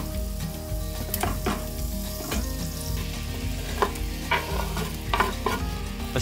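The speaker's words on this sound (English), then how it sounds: "stir the ingredients together before adding the chopped tomatoes" Onion, garlic, chili and smoked paprika are stirred together in a hot pan, a steady sizzle of frying under repeated scraping strokes of a spoon, close and continuous with no talking.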